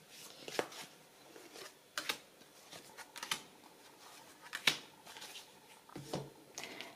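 Tarot cards are shuffled and drawn close up in a quiet room. Soft papery riffles and sharp snaps come at irregular intervals, with no voice.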